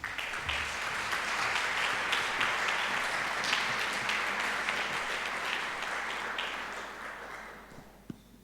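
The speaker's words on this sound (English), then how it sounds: "can we give a big round of applause to our first panel?" A seated audience applauds a panel on women's resistance, the veil and religious morality, with dense steady clapping filling the room for about seven seconds before thinning and fading out.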